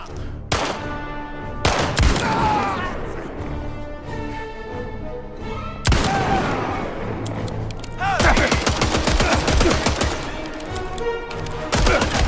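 Enemy gunfire in Indiana Jones and the Great Circle, with loud sharp single shots and rapid bursts cracking close by over a tense game score, growing denser toward the end.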